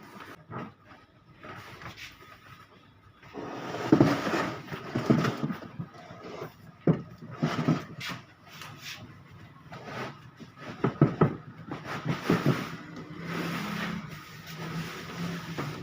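A copper-motor room air cooler being unboxed, with cardboard scraping, plastic rustling and knocks of handling, irregular and close, some louder thumps midway and near the end.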